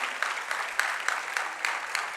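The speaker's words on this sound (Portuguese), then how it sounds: "Você pode dar uma salva de palmas para Jesus?" A church congregation claps together during a sermon, a steady, fairly dense patter of many hands with a few sharper peaks, heard alone at moderate distance.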